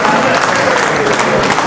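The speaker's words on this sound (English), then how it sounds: "Please, can we clap for these beautiful ladies?" A group claps loudly and close, a brief dense burst of many hands with some talk mixed in underneath.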